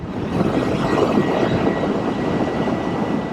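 A Matter Aera 5000+ electric motorcycle riding at speed in fourth gear, heard as a loud, continuous rush of wind and road noise with no voices.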